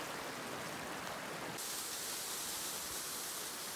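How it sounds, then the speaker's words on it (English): Waterfall rushing steadily in a winter outdoor setting, a constant broadband roar with no breaks, the hiss brightening partway through. "Next to a sick waterfall feature."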